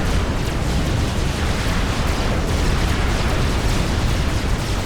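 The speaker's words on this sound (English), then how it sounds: "And those tactical missile launchers are firing" Tactical missile launchers fire in a Supreme Commander: Forged Alliance Forever 3v3 battle, heard as a dense, steady wash of rumbling blasts and crackling explosions with no clear gaps, loud and close throughout.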